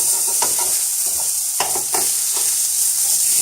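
Grilled chicken sizzles in a steady, loud hiss as it is flipped, with a few soft clacks from the turning.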